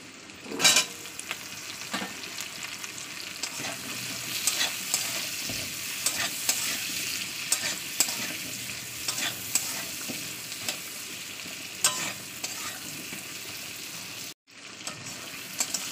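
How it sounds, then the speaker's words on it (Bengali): Potatoes frying in oil among fried onions in a home kitchen, a steady close sizzle with bursts of stirring and utensil scrapes throughout, briefly cutting out near the end. "আলুটা দেওয়ার পরে আমি 2 মিনিট তেলের উপরে ভাজা করবো"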